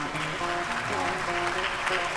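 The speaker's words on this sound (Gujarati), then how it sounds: "જોરદાર તાળીઓથી વધાવો" An audience claps steadily at a Gujarati lok dayro folk gathering, a dense, even patter of applause mixed with a voice or singing over it.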